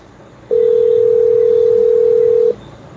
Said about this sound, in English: I have to call my mother phone